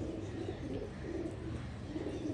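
Pigeons coo softly in repeated low, rounded phrases, a close but quiet murmur that rises and falls steadily throughout.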